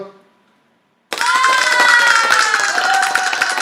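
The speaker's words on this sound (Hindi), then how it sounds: "चलो पहले तो मैं 6th के लिए तालियां बजा दूं" After a moment of quiet, a burst of crowd applause and cheering starts abruptly and continues steadily, loud and full.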